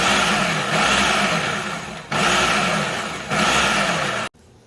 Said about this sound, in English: I'm going to just pulse it to chop it up some